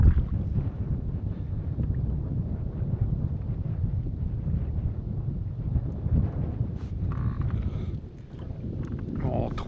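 Wind blowing across a lake during kayak fishing, a constant low rumbling buffet of the microphone with faint splashes and handling noises.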